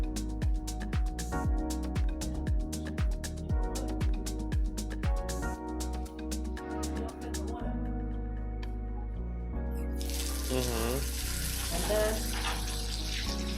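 Cold water runs through the cooling pipe of a homemade rice whisky still in Laos, a steady splashing flow that grows clearer toward the end beneath music and narration.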